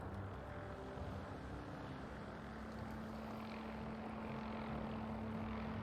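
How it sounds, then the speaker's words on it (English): Steady, low engine drone with a constant hum in the video game Fallout 4, moderately loud and unbroken throughout, with no voices. "Who's making that noise over there? Turn that engine off."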